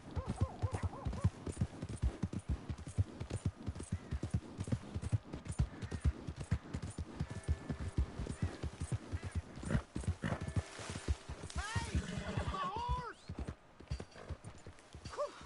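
Horse hooves clip-clop steadily in Red Dead Redemption 2, a rapid rhythmic trot running the whole stretch at moderate loudness, with a brief whinny near the end and occasional talk over it.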